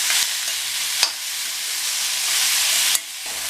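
A salted chow chow (chayote) poriyal stir-fry being stirred in a pan: continuous soft sizzling with a few sharp scrapes and taps of the spoon against the pan, no voices.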